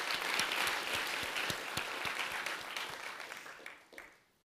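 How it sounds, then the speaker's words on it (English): An audience at a tech conference gives a round of applause, dense clapping that holds steady and then thins out and fades to silence near the end. "Please give yourself a round of applause."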